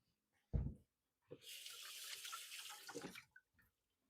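Kitchen tap running briefly while something is rinsed at the sink, a short soft splash first, then about two seconds of steady hissing flow that stops abruptly, faint and close.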